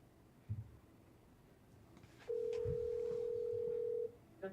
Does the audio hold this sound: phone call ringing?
yes